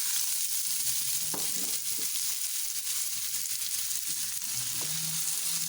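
Onions dropped into hot oil in a pan, a steady close sizzle of shallow frying with a couple of soft scraping stirs, no one speaking.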